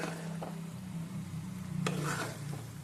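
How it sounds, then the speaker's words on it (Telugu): Ginger and garlic frying in oil for a bone-in chicken pickle, a steady low sizzle with stirring scrapes in the pan and a brief sharp clink partway through. "అల్లం వెల్లుల్లి వేగిన తర్వాత అంతవరకు వేపుకోవాలండి"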